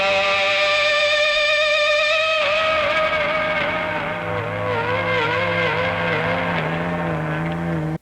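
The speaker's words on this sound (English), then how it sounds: "via using a guitar feedback to create a really howling and eerie sound" Opening of a song built on howling electric guitar feedback: loud, sustained, wavering tones over a low droning bed that cut off abruptly at the end.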